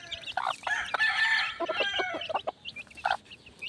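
Chickens and chicks gather at feeding time, with close clucking, bright high cheeps and short crowing-like calls in quick, uneven bursts and no talking.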